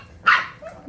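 Boston Terrier puppies at play let out one sharp, close bark, followed by a softer yip shortly after, with no talking.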